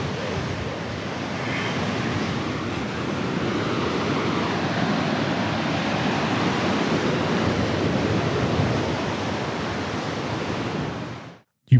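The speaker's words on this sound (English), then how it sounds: "put all of us in the ocean together, arms locked, ice cold water flowing over us" Ocean surf on the cold Namibian coast as a steady, loud wash of broad noise with wind, continuous and with no voices, ending in a sudden cutoff.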